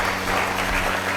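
A church congregation applauding, a steady, loud wash of many hands clapping together, continuous and without pauses.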